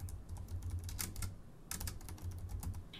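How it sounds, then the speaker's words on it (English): Typing on a computer keyboard in a text editor, a steady close patter of key clicks with a few louder strokes, over a low constant hum. "Hit enter and type their job description."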